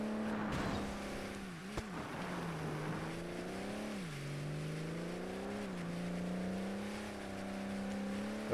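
Race car engine in ToCA Race Driver 2, held at steady, fairly low revs with a continuous harmonic drone that dips and climbs with small throttle changes, close and loud, with no talking.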